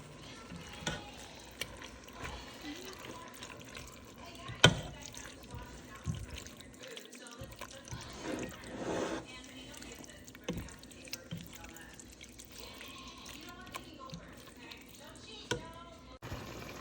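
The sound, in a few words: water poured into sauce jars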